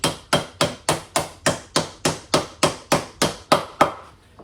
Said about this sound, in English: just be very careful with the hammer that you don't hit the sides of the wheel